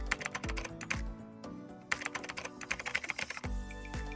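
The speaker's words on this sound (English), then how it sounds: "after typing your new email address, click Next on the upper right side of your screen" Fingers tap out an email address on a computer keyboard in quick, uneven bursts of clicks, close and clear, with a few brief pauses and a heavier key press near the end.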